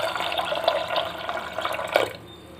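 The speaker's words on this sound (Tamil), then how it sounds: "கடலை முங்குற அளவுக்கு தண்ணி ஊற்றிக்கலாங்க." Water pours into a vessel of soaked peanuts, a close, splashy trickle that rises and falls for a couple of seconds before tapering off.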